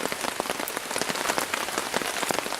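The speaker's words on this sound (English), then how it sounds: "I'm just going to listen to the rain for a little while" Steady rain patters on a woodland camp on a gentle slope, dense drops striking close by in a continuous, even wash with no voices.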